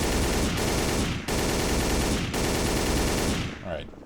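Rapid automatic gunfire shot from the hip in the shooter game Codename CURE, loud sustained bursts broken by brief pauses, ending in a short tail of game noise.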